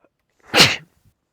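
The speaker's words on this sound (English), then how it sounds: "I'm gonna sneeze real quick" A single sharp sneeze, short and close, in an otherwise quiet moment.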